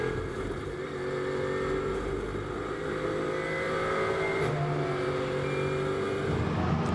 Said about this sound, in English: So it looks as though the Schrader Motorsport cars, they're actually just cruising back.